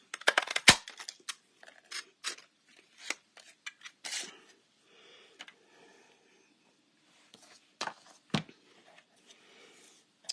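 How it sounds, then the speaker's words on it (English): Two stacked paper hearts are cut out together with scissors: crisp snips and rasping blade strokes come in bursts with short pauses, close and clear, with no talking. "I'm going to line up the two hearts so that they're both going to get cut out at the same time"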